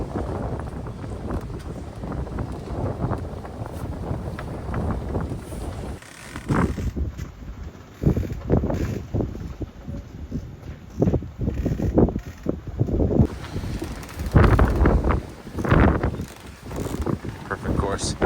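Wind buffets a microphone aboard a sailboat off Nantucket, a gusty rumbling roar that swells and drops, with someone talking over it and a brief quieter lull.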